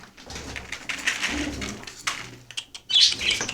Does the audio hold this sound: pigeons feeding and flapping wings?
yes